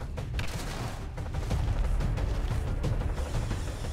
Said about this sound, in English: That's his return fire ability, I know.